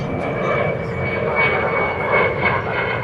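A steady, broad jet roar from a Qantas airliner fills the air at DFW Airport in the evening, constant and fairly loud with a faint whine on top and no break.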